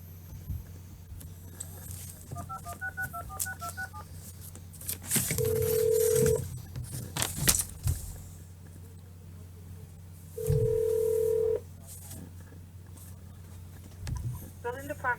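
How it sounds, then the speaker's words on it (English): A telephone call is placed: a short run of dialing tones followed by two long ringback tones a few seconds apart, with faint background noise and brief clatter between them. "Call to Tim Zike, Thursday, the 23rd."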